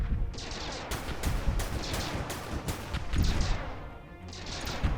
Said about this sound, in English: That is some amount of power in those guns there.